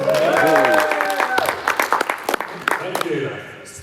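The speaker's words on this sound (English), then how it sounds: "That's the first time I've ever had a round of applause like that" Audience clapping at a vintage-themed panel event, a dense burst of applause that thins into scattered claps and fades, with a voice talking over the start.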